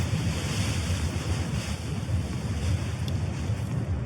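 Wind and sea waves roar continuously at a seaside campsite, a loud, steady broadband wash of surf and gusting wind buffeting close by with no voices.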